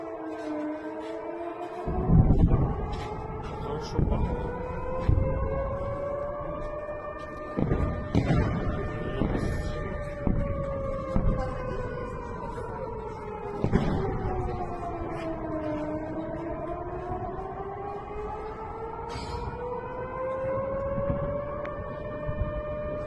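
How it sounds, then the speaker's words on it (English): Air raid sirens wail in Belgrade during shelling, long rising and falling tones sweeping slowly up and down, with dull thuds and rumble of shelling underneath, sustained throughout at moderate distance. "we can hear the sounds of the air raid sirens and the sounds of shelling still occurring in this clip"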